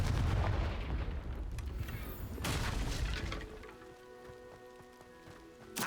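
Confringo fire spell in Hogwarts Legacy: a loud crackling, booming blast that rumbles and fades over a few seconds, followed by a quieter tonal shimmer with light ticking and a small thump at the end.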